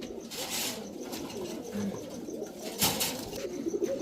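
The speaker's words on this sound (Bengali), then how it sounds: "এখন দেখাবো এক জোড়া জিরা গলা কবুতর, একেবারে ফুল ঝোপ্পা মুজোওয়ালা একটা পেয়ার" A pair of crested, feather-footed Jira-necked pigeons coo softly in low, throaty phrases, close by amid a faint background hiss, with a brief rustle near the end.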